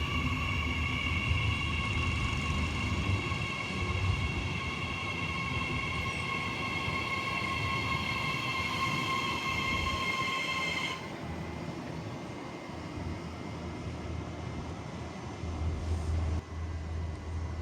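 A diesel train departing Broadmeadow station in Newcastle, Australia rumbles steadily with sustained high tonal whine and engine hum, then the tones cut off abruptly as it pulls away, leaving low rolling noise.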